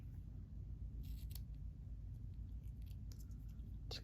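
Small scissors snip through decorative ribbon while a bow is made for a handmade card, giving a few faint, crisp cuts in an otherwise very quiet room.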